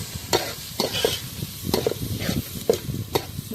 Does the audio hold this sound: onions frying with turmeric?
yes